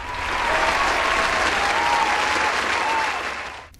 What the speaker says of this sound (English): Foley sound effects are the only way for me to get a round of applause